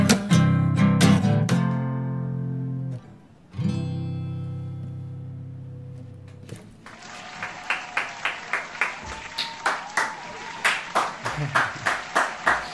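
An audience applauds right after a sung performance on an interview show: music fades out, then steady clapping swells with rhythmic, pulsing peaks and fills the room to the end.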